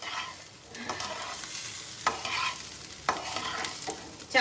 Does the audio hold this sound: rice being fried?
yes